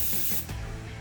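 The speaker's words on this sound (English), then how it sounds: "So as you can see, sprays in a nice fan this way." Airless paint sprayer with a 515 tip laying down a fan of paint, a loud steady hissing spray that fills the first half then tapers into a lower mechanical whir with faint clicking.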